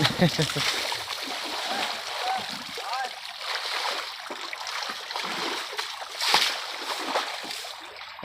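A young elephant is scrubbed with leaves while lying in shallow water, giving continuous splashing and swishing close by, with someone talking over it and louder splashes now and then.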